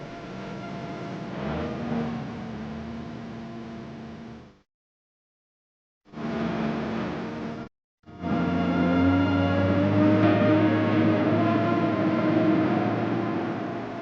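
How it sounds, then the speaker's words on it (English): Continuous miner in a British colliery loading coal onto its built-in conveyor and into a shuttle car, a loud steady mechanical rumble and grinding with brief silent gaps, then a sustained droning whine. "This new continuous miner, the only one in use in Britain, loads coal onto its built-in conveyor, and thence into a shuttle car."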